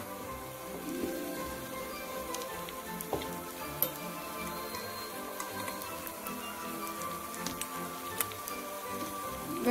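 Food frying in a pan for a homemade lunch, a soft continuous sizzle with occasional small pops and ticks, heard close and fairly quiet with no talking.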